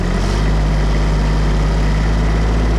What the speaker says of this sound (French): on monte le moteur à 2000.